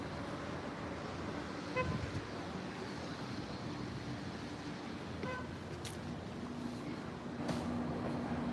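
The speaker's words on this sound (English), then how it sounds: "There's always somebody honking a horn." A car horn toots briefly on a Jerusalem street, faint and somewhat distant, amid a steady wash of traffic and city background noise.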